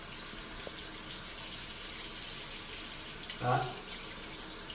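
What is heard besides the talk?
water running while rinsing the head of a galvanic spa machine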